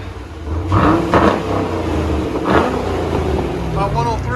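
A Chevy Camaro SS with a 6.2L LS3 V8 and a loud aftermarket exhaust revs in a couple of short bursts over a low rumbling idle, close by, while people talk over it.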